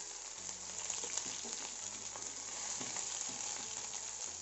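Ten to twelve curry leaves sizzle in hot oil in a pan for an okra (bhendi) fry, giving a continuous, close, crackling hiss with light stirring throughout.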